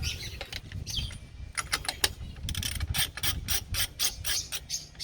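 A ratchet clicks in quick runs as it tightens a nut on the steering knuckle of a Volkswagen Golf 4, close and loud, with brief metallic handling noises between the bursts.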